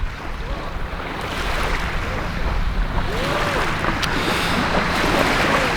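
Ocean waves wash ashore under gusty wind buffeting the microphone while a passing boat's motor hums faintly, a continuous broad rush that swells slightly louder over time.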